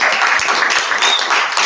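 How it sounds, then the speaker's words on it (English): An audience at a home event claps in a short burst of applause: dense, steady, broadband clapping that stays loud and even for under two seconds, with no distinct voices. "Let's give him a round of applause."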